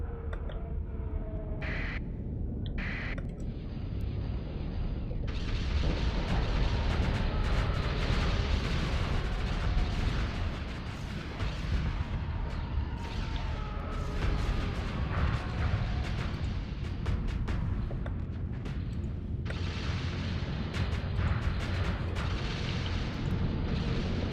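Starsector video game space battle with ships firing weapons: dense, continuous rumbling booms and explosive bursts overlapping at close range, with sharp crackling impacts scattered throughout.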